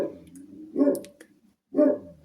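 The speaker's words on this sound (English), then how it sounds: "You can probably hear him outside having a woof at the world." A dog barks outside, two loud, close bursts about a second apart with quieter rumbling and yips between them, no talking.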